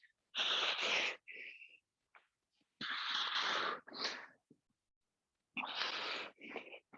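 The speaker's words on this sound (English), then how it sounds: "I'm going to be annoyingly breathing like this for a lot of this." During a workout, heavy breathing comes as loud, breathy bursts: three long forceful exhales, each followed by a shorter puff, with quiet pauses between and no speech.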